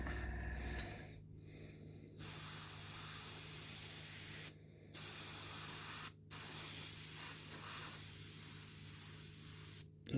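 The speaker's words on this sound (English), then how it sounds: "As you can see, it's quite a decent airbrush." An airbrush sprays paint in several long, steady hissing bursts separated by brief pauses, close and fairly quiet, with no talking.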